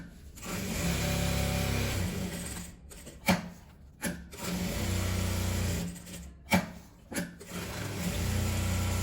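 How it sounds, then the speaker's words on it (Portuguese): A sewing machine runs in long steady stretches as it stitches around coated nylon fabric for a travel sewing organizer. Short pauses and a few knocks as the fabric is shifted break up the whirring, which is up close and moderately quiet. "Então eu tenho que passar uma costura em volta dele todo para fixar."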